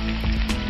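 Onions hit a pan of hot oil for a stuffed eggplant curry, giving a loud, dense sizzle with a few brief crackling bursts in a short, close burst without speech.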